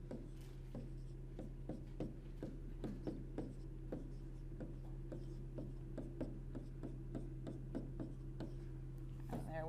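Marker or chalk strokes on a board while a redox equation is balanced, a steady run of short scratchy taps and rubs at close range over a constant low hum, with faint talk at times.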